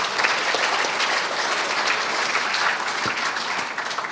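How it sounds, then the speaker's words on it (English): A conference audience at SAPSA 2014 gives a round of applause, dense and steady clapping that stays loud for the whole stretch, with no talking over it. "So let's take that round of applause."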